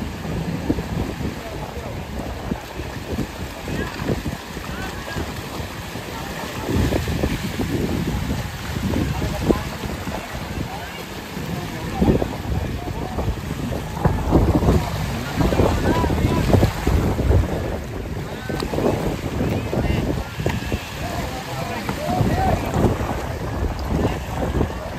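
Heavy wind gusts over rough sea at Coral Island, Pattaya, roar into the microphone alongside boat engine rumble and breaking waves, loud and unbroken for the whole stretch, with voices talking at times over it.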